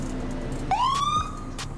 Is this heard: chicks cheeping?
no